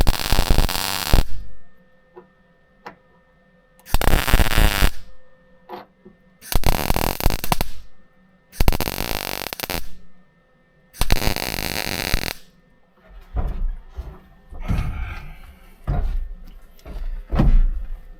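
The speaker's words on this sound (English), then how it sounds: "Once it's tacked up all the way around, I'm just gonna do little stitch welds." Stitch welding a steel patch into a rusted car wheel well: five loud bursts of crackling, buzzing welder noise, each lasting one to two seconds, separated by quiet gaps, followed by scattered clicks and handling sounds.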